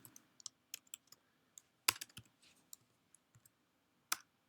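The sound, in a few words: typing on computer keyboard while coding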